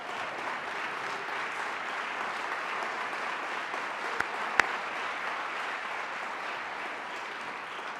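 Steady, even applause from an audience at a university all-staff meeting, acknowledging the buildings and grounds crew, sustained at moderate distance with one or two sharper claps standing out.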